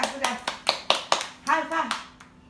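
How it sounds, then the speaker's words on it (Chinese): A child claps hands in a series of sharp, close claps, about six in quick rhythm, alongside a woman's sing-song voice talking over them. "鼓掌，鼓掌，鼓掌"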